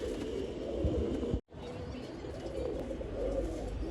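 Rajan wali breed pigeons coo softly and repeatedly in a loft, a low murmuring chorus that runs continuously with a brief dropout, no voices present.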